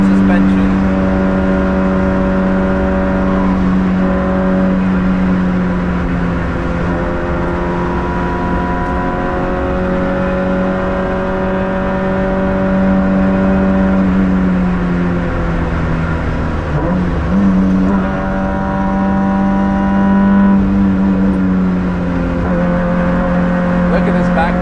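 A Nissan Micra K11 engine screams at high revs around the Nürburgring, its sustained, loud, near drone rising and falling in pitch with gear changes and throttle for the whole stretch, with no pause.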